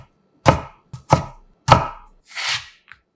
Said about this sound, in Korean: 김밥용 단무지 2개를 3등분해서 반씩 2번 잘라서 4쪽으로 만들어주세요